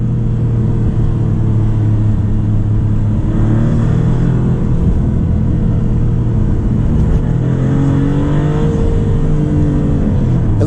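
A 2024 Maserati MC20 with a turbocharged engine accelerates hard on broken pavement, a loud, steady engine drone climbing in pitch throughout, heard close from inside the car with no voices.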